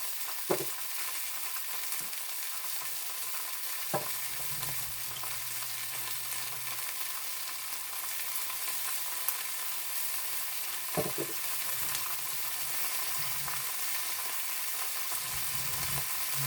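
Chops frying in a pan give a steady, even sizzle that runs throughout, joined by a few faint clicks and low scrapes from the stove. No voices are heard.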